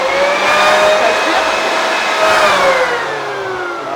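A second-hand vacuum cleaner found on the street and plugged in, running loudly and steadily close by with a whining motor tone that slowly drops in pitch.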